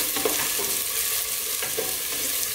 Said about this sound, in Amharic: ይህንን እንጠብሳለን ለሶስት ደቂቃ።